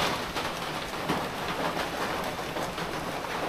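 A downpour of heavy rain roars in a continuous, even wash of noise, close and steady throughout with no voices.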